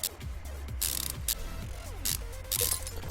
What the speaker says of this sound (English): bolt everything back in place